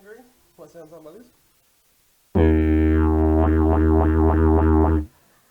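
An instrument imitates a baby kangaroo with a loud, buzzing, wobbling drone that pulses in quick repeated swells for about three seconds. Brief speech comes just before it.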